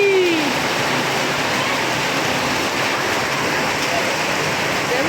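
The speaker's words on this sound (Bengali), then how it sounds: "এত ভারী বৃষ্টি হচ্ছিল" Dense, loud hiss of heavy monsoon rain pouring steadily in the hill village of Dudhiya, a continuous wash of noise with no pauses.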